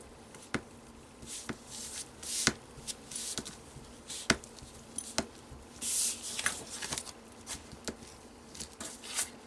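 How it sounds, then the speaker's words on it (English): Tape hinges on a postcard album get burnished, a close, quiet run of soft rubbing swishes broken by sharp little taps and scrapes at an uneven pace, with no one talking. "I'm going to burnish that tape now"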